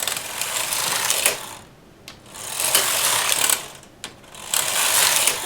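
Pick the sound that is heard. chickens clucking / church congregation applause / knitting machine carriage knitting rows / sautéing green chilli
knitting machine carriage knitting rows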